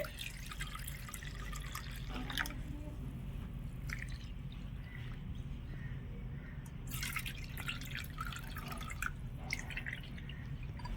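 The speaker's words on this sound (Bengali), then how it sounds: "এবার ঠিক আমি এই বাটি মেপে নিয়ে নেব দুই বাটি জল" Warm water poured from a measuring bowl into a mixing bowl for pitha batter drips and splashes in short bursts over a low background hum.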